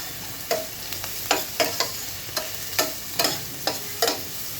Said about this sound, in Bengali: প্রায় দুই কাপ পরিমাণ পেঁয়াজ কুচি দিয়ে দিয়ে নিচ্ছি একটু ভেজে নিব এখন